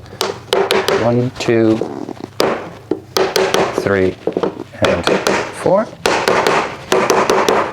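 Shelf parts of a wooden potted plant stand are banged into place with a series of sharp, loud knocks in irregular clusters, while a person talks between and over the hits.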